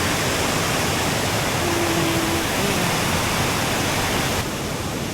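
A waterfall at Minneopa State Park in Mankato, Minnesota, a steady broadband rush of falling water, constant and fairly loud, with a brief faint tone partway through.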